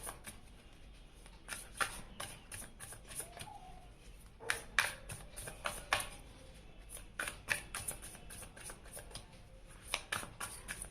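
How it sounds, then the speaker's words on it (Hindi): Tarot cards being shuffled and drawn by hand: a quick run of crisp riffling and slapping bursts in irregular clusters, close and fairly quiet, with no talking. "और अब मैं यहाँ पे आपके पर्सन के लिए भी कार्ड्स ओपन कर लेती हूँ"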